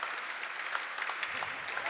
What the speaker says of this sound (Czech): Tak zaslouží potlesk.